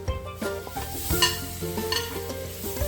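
Chopped tomato sizzles in a pan of hot coconut oil for a fish curry, with a spoon stirring and scraping in quick, uneven strokes over a steady close frying crackle.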